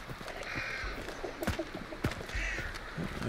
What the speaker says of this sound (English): I don't think I can get past these crows without setting them off.